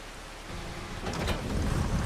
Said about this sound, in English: Right, I know it's raining.